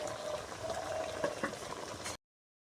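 Apple chutney simmers in a pot with soft, steady bubbling and a few small pops and clinks, faint and close, with no talk.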